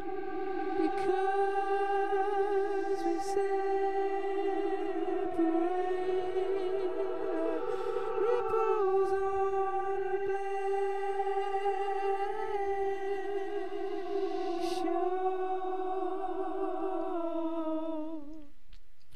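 A sung vocal line treated with a reverse reverb effect: sustained tones swell in with a smeared, backward-sounding reverb tail, steady and fairly quiet throughout with no speech.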